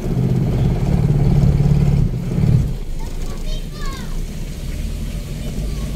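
A Honda Fit with low power on a road test, its engine droning low and steady inside the car, louder in the first couple of seconds, with people talking over it.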